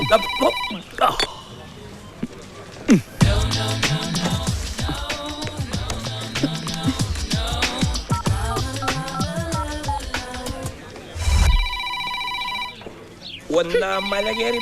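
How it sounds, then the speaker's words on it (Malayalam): Phone ringtone chiming in repeated melodic bursts, loud and close, interleaved with talk and brief pauses. "എത്ര ഫോൺ കിടന്ന് ബെല്ലടിക്കുന്നു"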